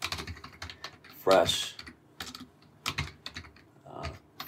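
Typing on a computer keyboard, a quick run of light key clicks in short clusters, close and clear, mixed with a louder clack and someone speaking briefly.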